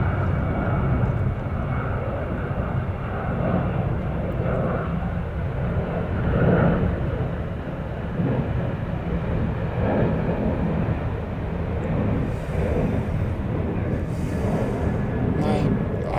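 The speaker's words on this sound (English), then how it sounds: "There's so many planes" Airplanes pass overhead above a forest, a continuous broad engine roar that hangs steady for the whole stretch, with someone talking over it in places.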